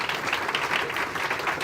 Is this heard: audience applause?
yes